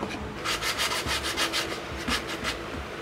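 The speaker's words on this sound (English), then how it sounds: "the rest of it was just a little bit of hand sanding" Hand sanding a wooden CNC-cut sporktula gives a steady back-and-forth rasping, about ten quick rhythmic strokes, close and moderately quiet, with no voices.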